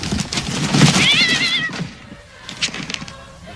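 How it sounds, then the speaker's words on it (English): A cat meows from inside a wrapped Christmas gift box, one drawn-out wavering cry close by, followed by softer rustling and muffled movement. "This box is meowing."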